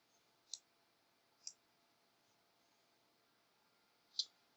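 A computer mouse clicks three times, sharp and quiet, with two clicks about a second apart and a third after a longer pause, against a near-silent background.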